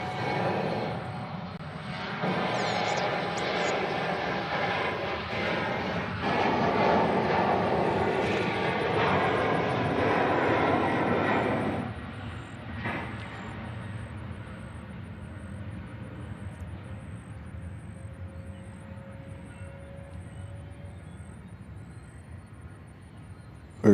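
JetBlue airliner engines roar at Nashville International Airport, a broad distant rushing that swells and holds for several seconds, then fades to a faint hum as the aircraft moves away.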